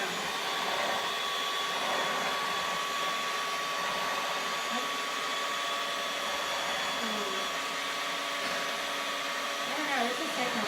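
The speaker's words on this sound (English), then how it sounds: "See, Grandma's blender, what is this, mixer, still ready to go." An old electric hand mixer whipping dalgona coffee runs as a steady, even whir for the whole stretch, close and fairly loud, with no talking over it.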